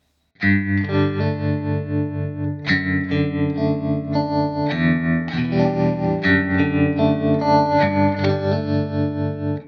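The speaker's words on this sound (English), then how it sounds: "Let's change the reverb to a halt." Electric guitar chords through a Blackstar ID-X amp ring out with a spacious hall reverb, notes trailing and blending as the playing continues loudly without voices.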